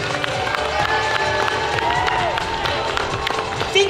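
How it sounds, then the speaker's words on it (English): Crowd applause and cheering for the Arizona Kimono Club at a kimono fashion show on the main stage of the 2024 Tucson Japanese Festival, steady and fairly loud throughout, with voices and background sound mixed in. "Give another round of applause to the Arizona Kimono Club"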